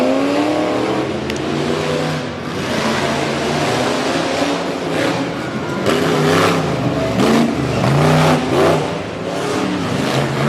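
Tough trucks revving hard off the starting line at an off-road race in Brookville, Pennsylvania, loud engines rising and falling in overlapping surges, near and continuous.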